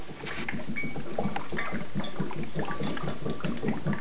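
An HHO generator running at about 2 amps bubbles gas through water outdoors at night, a dense continuous gurgle of rapid bubbles heard up close.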